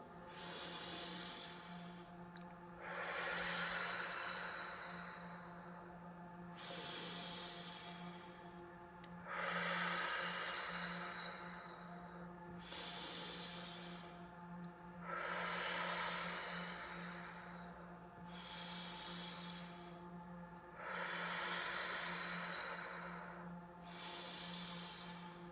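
Slow, audible breaths during a deep breathing exercise, with about five long inhale-exhale cycles evenly spaced, each a soft rushing swell of air, close and alone over a faint steady hum.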